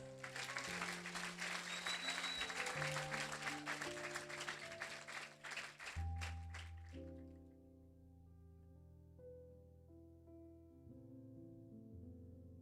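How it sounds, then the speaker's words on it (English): Crowd applause at a senior class graduation ceremony, loud dense clapping that fades out around the six-second mark, leaving sustained musical tones playing alone afterward. "Please give them another round of applause."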